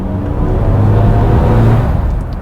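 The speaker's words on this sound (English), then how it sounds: "It's really the sound an electric motor actually makes" A steady, loud low synthetic hum from a BMW i5 M60 electric motor, smooth and droning with a faint tonal whine and no gear changes.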